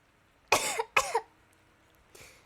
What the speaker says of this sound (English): I coughed something up.